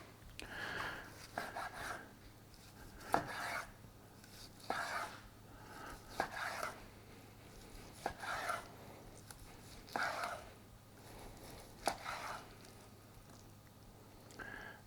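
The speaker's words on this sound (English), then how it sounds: "let's just slice this up." A knife slices through smoked turkey breast, producing about a dozen soft, evenly spaced cutting strokes with faint scraping, quiet and close in an otherwise still kitchen.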